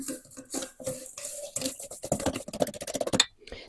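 A utensil clinks and scrapes rapidly against a bowl while stirring egg, salt and sugar, in uneven bursts that speed up toward the end, close by.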